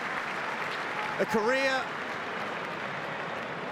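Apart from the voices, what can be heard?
cricket crowd applauding at the SCG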